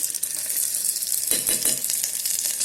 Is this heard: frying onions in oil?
yes